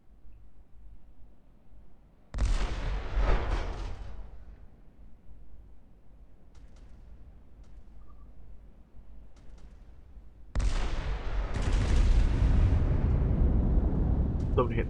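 Naval artillery gunfire from a battleship in Roblox Naval 1945, two heavy booming salvos with long rumbling tails, separated by a quieter stretch, with faint background game sounds.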